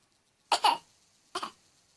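Two short, dry coughs close by, separated by a brief pause, in an otherwise quiet room.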